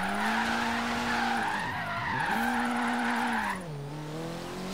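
A Ford Focus RS drifting through a drift zone in a racing video game, its tires squealing in long sustained wails that bend in pitch, loud and steady with engine tone underneath and no talk.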